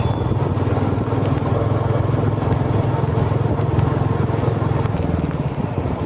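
A motorcycle is ridden through rain, its engine giving a constant close rumbling putter with a rough wash of rain and wind noise over it. The drone holds steady throughout.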